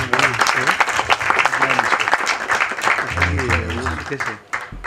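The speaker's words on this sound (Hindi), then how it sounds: "क्लॉडिया के लिए ज़ोरदार तालियां प्लीज़" A trailer-launch audience for the film Teri Bhabhi Hai Pagle breaks into sustained, dense applause, loud and continuous, with a host's voice talking over the clapping.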